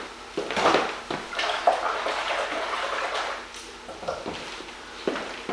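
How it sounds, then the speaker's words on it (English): Hot water runs continuously from a kitchen tap while hands are washed beneath it, after handling lean minced beef; a steady splashing hiss with brief louder bursts, close by, with no voices. "washing my hands in that very hot water"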